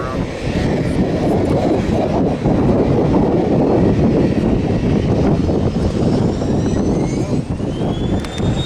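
A small airplane takes off at full throttle, its engine roaring loud and steady while the pitch rises toward the end.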